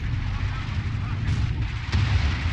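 Booming tank cannon shots and battle rumble in the strategy game Company of Heroes 2, a few heavy blasts over a dense continuous roar of combat.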